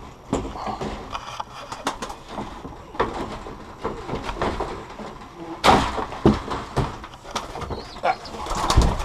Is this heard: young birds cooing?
yes